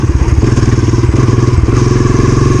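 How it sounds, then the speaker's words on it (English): Dirt bike engine lugging at low revs in fifth gear, a steady deep chugging pulse with rapid regular beats, loud and close, no talk over it. "Can you guys hear? The motor is running very slow."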